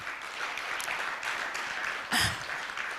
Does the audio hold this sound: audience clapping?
yes